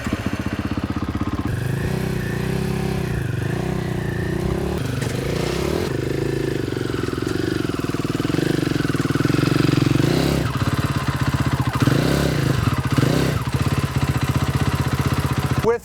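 A snow bike engine runs steadily near at hand as it rides onto a Timbersled loading ramp, a loud continuous mid-pitched drone that swells slightly as the throttle opens, with no clear talk.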